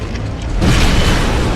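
An animated missile strikes its own shooter and explodes, a sudden heavy boom after a brief quieter lead-in, followed by a loud sustained roaring blast that fills the rest of the moment.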